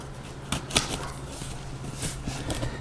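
A blade slices into cardboard box packaging up close, producing a few sharp scraping and tearing bursts separated by short pauses over a faint background hum.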